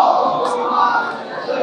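A large crowd at a religious gathering loudly recites salawat in unison, a dense, sustained roar of many voices that continues steadily and close throughout.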